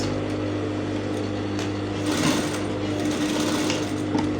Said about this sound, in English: Then I'll take this under the machine again. Make sure you don't have any fabric underneath it, and then you are going to sew on it.